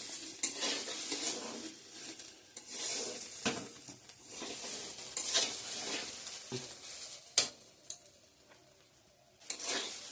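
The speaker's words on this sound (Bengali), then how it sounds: "ভাজা ভাজা হয়ে গেছে, এখন জল দিয়ে দেব।" Spices frying in a pan with stirring for khichdi: soft sizzling under repeated scraping and clinks of a utensil against the pan, close up with no talk.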